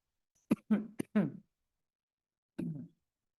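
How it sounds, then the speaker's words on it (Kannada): Several sharp coughs in quick succession, followed after a pause by one more cough, close and distinct against silence. "ಕೆಮ್ಮು ಬಂದ್ಬಿಟ್ಟಿತ್ತು ನೋಡಿ"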